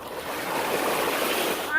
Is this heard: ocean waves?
yes